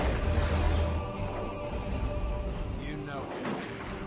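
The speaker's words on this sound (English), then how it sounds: "Was that a direct hit from a missile launcher?" A missile launcher strike lands in a Warhammer 40k Dawn of War 2 Retribution match, a booming explosive blast with rumbling crashes and scattered battle noise in the game.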